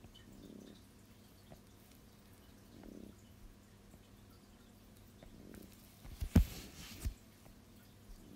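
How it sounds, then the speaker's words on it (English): Water dripping and trickling in a home aquarium, faint and intermittent, with soft low gurgles recurring every few seconds and a sharper splash or two near the end. "So my fish tank is really loud."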